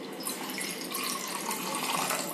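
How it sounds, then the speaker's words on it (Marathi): Water pouring steadily into a metal pot to make Rasna drink, a continuous close splashing rush with no talk. "पहिले टाकायला लागेल ना आपल्याला पाणी"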